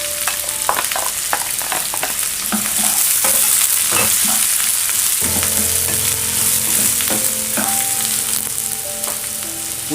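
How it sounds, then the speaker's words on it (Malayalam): Finely chopped onions frying in a pan with garlic and green chillies, a loud continuous sizzle broken by sharp stirring scrapes and taps of a spoon, close up, with no voices. "പിന്നെ ഉള്ളി ഇട്ട് കൊടുക്കാം. ഉള്ളി പൊടിയായിട്ട് അരിഞ്ഞായിരിക്കണം."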